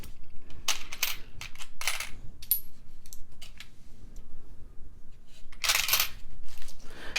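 Small artisan ceramic beads dropped and clattering onto a hard surface in bursts of sharp clicks and taps, close and crisp, with quiet gaps between the clusters.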